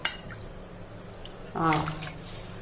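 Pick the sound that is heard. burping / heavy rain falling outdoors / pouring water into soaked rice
pouring water into soaked rice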